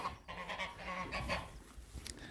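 Geese honk loudly and repeatedly in a winter farm barn housing ducks, silver appleyards and turkeys, a dense clamour of overlapping calls close by.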